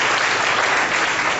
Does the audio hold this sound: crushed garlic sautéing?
no